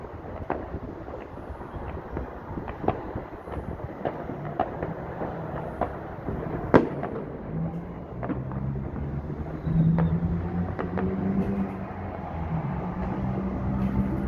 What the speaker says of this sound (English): Fireworks going off all over Chiang Mai right now.